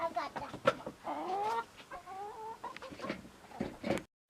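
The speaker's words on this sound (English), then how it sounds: "Look at the chickens are eating their breakfast." Chickens cluck and squawk while eating their breakfast on a flower farm, close and lively, in a series of short calls and a drawn-out cackle before the sound cuts off.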